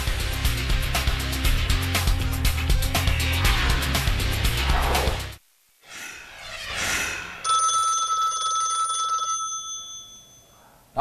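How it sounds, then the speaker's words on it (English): An old-fashioned telephone rings with a bright, insistent bell tone that holds for a few seconds, following a burst of loud music and a brief pause. "Such an awful ringtone."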